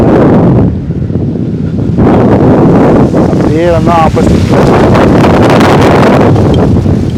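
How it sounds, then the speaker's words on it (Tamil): Strong wind roars into the microphone near the sea at the old Tharangambadi fort, a loud, steady gusting rush that fills the whole stretch while someone talks over it. "சரியான காற்று இப்போ நம்ம வந்து இருக்கு"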